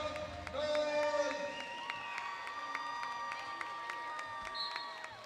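Basketball crowd cheering and clapping in an arena during a Cape Breton Highlanders versus Saint John Riptide game, a diffuse roar with scattered claps, shoe squeaks and whistling tones, with announcer talk underneath.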